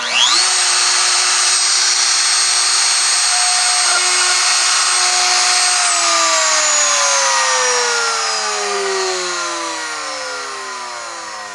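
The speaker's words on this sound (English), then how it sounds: "Turn the router on." A plunge router spins up sharply and holds a loud, steady high whine while it cuts a recess into wood. Then it is switched off and winds down with a long, falling pitch.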